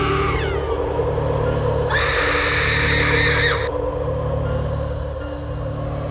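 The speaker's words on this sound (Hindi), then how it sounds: "और जोर जोर से चिल्लाने लगती है।" A witch in a Hindi horror story shrieks loudly, a sustained high wail rising over a dense rumbling ambience and lasting about two seconds in the middle.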